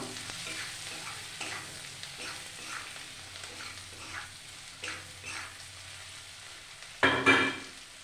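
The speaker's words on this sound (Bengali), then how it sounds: "এবার একটু ভাজা ভাজা করে নেব।" Boiled potatoes fry in hot oil with salt and turmeric, giving a low steady sizzle while a spatula scrapes and stirs in regular strokes against the pan, ending with a sharper clatter.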